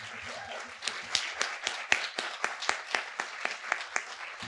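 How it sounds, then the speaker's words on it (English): An audience at a public health storytelling event breaks into applause. Scattered claps swell into a rhythmic round, with a few distinct nearby hand claps standing out above the crowd and faint voices at the start. "let's give them one more round of applause"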